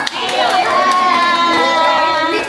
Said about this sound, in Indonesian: Ini tepuk tangan dulu buat temannya